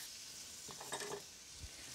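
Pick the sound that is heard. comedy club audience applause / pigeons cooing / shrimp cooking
shrimp cooking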